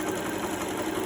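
Home sewing machine running on a zigzag stitch while finishing a garment's shoulder seam, a steady close motor whir with rapid needle clatter, continuous and even, no talking.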